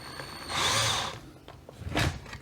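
A power drill bites into a wooden plug while fitting out a jon boat, one loud whining burst that bogs down and then a second shorter surge, close and alone.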